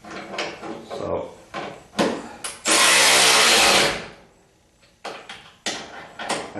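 A power wrench drives bolts on the rear crash bumper of a 1976 Corvette restomod, one loud sustained whirr of about a second amid clanks and handling knocks of tools and parts.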